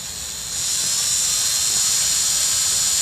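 Power drill spinning to twist wire into a double helix, a high steady whine that jumps louder after half a second and then holds an even, close drone.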